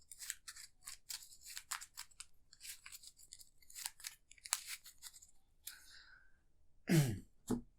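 A deck of Arkham Horror LCG cards is shuffled in a series of crisp, papery rustling bursts, close and fairly quiet. Near the end, someone clears their throat.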